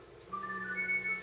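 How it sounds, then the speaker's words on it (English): A mobile phone rings faintly in a room where a guitar amp head is being demonstrated, playing a brief rising melodic ringtone of a few short tones. "my phone's ringing"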